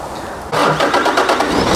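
A Hino Mega 500 truck's JO8E 260 PS diesel engine turns over and fires up abruptly, settling into a loud, rough, clattering run close by.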